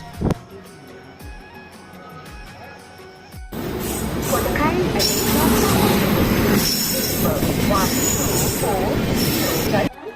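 A train arriving on an Indian railway, with loud wheel squeal and rolling rail-car rumble filling the station from about three seconds in, continuous and close, over a busy crowd with people talking.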